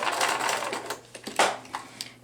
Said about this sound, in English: I am going to back tack,